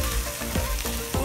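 Samosa filling of minced meat sizzles with chili in a pan, a close, steady frying crackle broken by quick stirring scrapes over one short moment.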